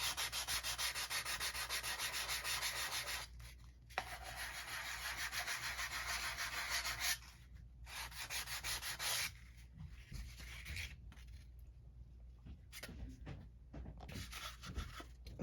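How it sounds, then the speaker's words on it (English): Very fine sandpaper rubs over drywall compound on a 1:12 scale vintage refrigerator model, quiet rasping strokes in steady runs broken by short pauses, then lighter, scattered scrubbing toward the end. "now I'm just going to go over it with a very fine sandpaper to try and get the smoothest finish I can"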